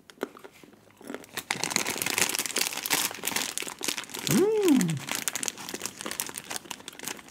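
Crunchy bites into almond chocolate crack close to the microphone amid crinkling wrapper noise, with a brief voiced hum partway through.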